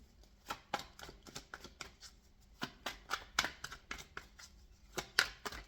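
A deck of tarot cards being shuffled by hand in a quiet room, with a steady run of soft riffling snaps and papery flicks, close and fairly loud, with no voices.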